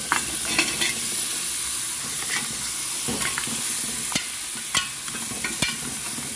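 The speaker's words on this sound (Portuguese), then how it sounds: "Agora eu vou dar uma mexida e vou acrescentar a minha carne agora." Meat sizzling and frying in a pan seasoned with black pepper and cumin, stirred with a spatula that gives repeated scraping clicks over a steady close hiss, no talking.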